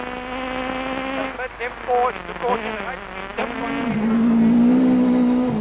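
A Ford Fiesta rally car is driven hard on South African gravel roads, its engine revving and shifting loudly up and down with pitch sweeps and a sustained high drone near the end, with a voice talking over it.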